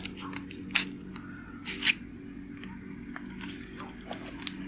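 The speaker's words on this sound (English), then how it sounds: "Then I'm just gonna cut this plant out from the pack." Scissors cutting a Carolina Reaper pepper seedling out of a plastic plant pack, a few crisp, close snips with rustling between them.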